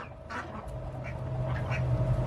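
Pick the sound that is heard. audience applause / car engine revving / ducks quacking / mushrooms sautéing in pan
ducks quacking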